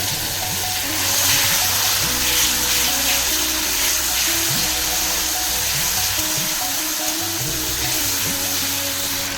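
Masala with tomato sauce sautéing in a pan for a steamed egg dish, a steady close sizzle with faint scraping of stirring running throughout, no voices.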